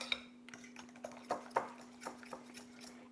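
A spoon stirs a cobbler mixture in a bowl, giving light, scattered clinks and scrapes against the sides at close range over a steady low hum, with no talking.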